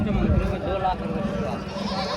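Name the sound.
goats bleating at livestock market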